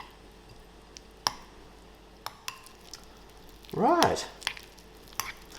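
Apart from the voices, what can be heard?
stirring the cheese mix with food colouring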